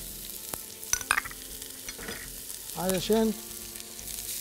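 Onion and garlic frying in a mix of olive and corn oil, heard as a light crackling sizzle with scattered pops, while a voice briefly speaks partway through.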